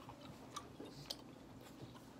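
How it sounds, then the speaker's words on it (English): Gum being chewed close to the mouth, soft wet smacking and squishing bites at an irregular rhythm, faint and quiet throughout. "I'm not done fully chewing it."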